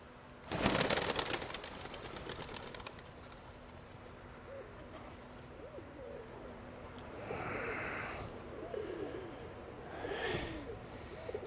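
Pigeons coo softly in low, repeated calls around a loft, faint and intermittent, with a few louder rustling bursts and wind noise in between.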